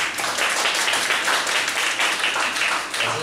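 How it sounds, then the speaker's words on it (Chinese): A lecture audience gives a speaker a warm round of applause, many hands clapping in a dense, steady patter that stays loud for several seconds without any speech. "大家热烈掌声一下。"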